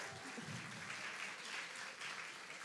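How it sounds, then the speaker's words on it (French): Applause fills the hall as the first speaker at a university eloquence contest final is welcomed, a full, sustained crowd of clapping with a brief low voice early on. "Veuillez l'applaudir."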